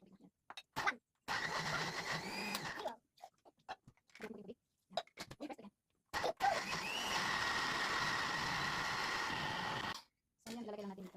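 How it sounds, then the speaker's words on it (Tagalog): A kitchen blender grinds garlic, onion and ginger for a homemade tomato garlic chili sauce. It runs in two long whirring stretches separated by short stop-start pulses and brief silences. "unahin natin i-grind itong bawang, sibuyas, tsaka konting luya"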